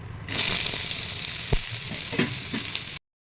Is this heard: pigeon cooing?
no